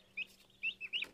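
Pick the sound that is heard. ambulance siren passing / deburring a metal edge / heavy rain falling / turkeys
turkeys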